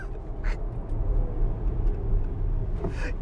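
A 2019 Tesla Model X electric SUV accelerating hard, heard as a loud, steady low rumble of road and wind noise that holds throughout, with no talking.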